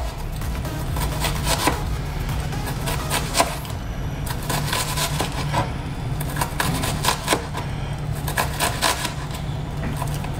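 A sharp knife chops through an onion on a cutting board in quick, repeated strokes, with clustered bursts of crisp taps close by and no talking.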